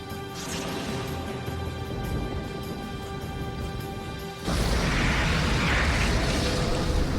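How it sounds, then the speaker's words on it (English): A spacecraft blows up in a Xenogears video game cutscene: a steady tonal passage suddenly gives way to a loud, sustained broadband roar of explosion that fills the rest of the moment. "In a flash of light, the spacecraft is destroyed"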